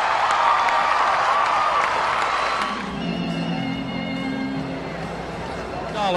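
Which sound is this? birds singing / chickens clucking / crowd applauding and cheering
crowd applauding and cheering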